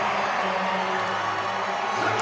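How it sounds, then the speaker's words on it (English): Opening-night crowd at an indoor soccer game in Baltimore cheering and whooping, a loud continuous arena roar with a low hum underneath, steady for the whole stretch. "Nice opening night crowd here in Baltimore"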